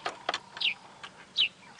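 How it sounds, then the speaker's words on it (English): Grey-headed sparrow calling near a nest during a sunrise safari drive, two short high chirps amid faint clicks and quiet surroundings. "a grey-headed sparrow calling in here."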